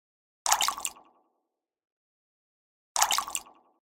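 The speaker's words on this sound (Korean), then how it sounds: "물방울이 바위에 부딪히는 소리가 들렸고" Water droplets strike rock, two separate close drips, each a crisp plop with a short splashy tail, about two and a half seconds apart in otherwise silent surroundings.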